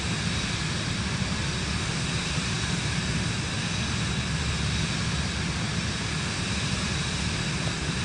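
A steady, broadband aircraft engine drone holds through the whole stretch, loud and unbroken, as a plane climbs after takeoff in Microsoft Flight Simulator 2024, with flaps being raised and no talking.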